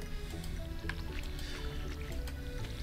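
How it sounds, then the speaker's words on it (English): Watering crops in the farming video game Stardew Valley, with soft squishing, dripping water effects repeating steadily over a dense, continuous game soundtrack at moderate level. "so we have to water the plants again"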